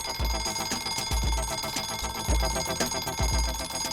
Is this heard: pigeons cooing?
no